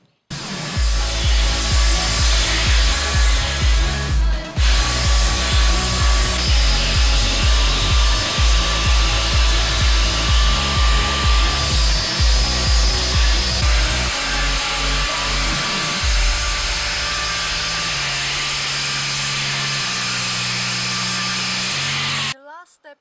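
A power grinder sands a handmade wooden flower pot, a loud continuous whine with rhythmic pulsing as the tool works the wood, then a lower steadier drone near the end before it stops abruptly.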